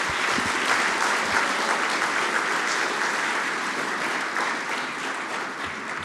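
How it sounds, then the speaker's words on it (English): An audience at a programming contest closing ceremony applauds steadily, a dense, even wash of many hands clapping that holds nearly constant and fades only slightly toward the end. "So a big round of applause for the first solve."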